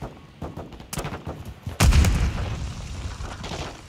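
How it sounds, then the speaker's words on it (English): Gunfire and a grenade blast in the Modern Warfare II campaign: scattered sharp shots lead into one loud, close explosion with a deep boom, followed by a rumbling tail and more distant fire. "Oh shit, grenade."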